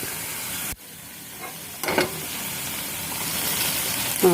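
Cooked pasta is stirred into a hot pan with soy sauce and sauce, giving a steady loud sizzle with a brief stirring scrape partway through, alone without talk.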